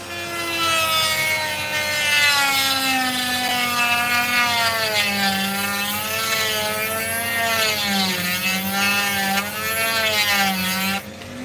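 A saw whines loudly as it cuts through opal along the sand line, its steady tone rising and falling in pitch, close and continuous with no talking.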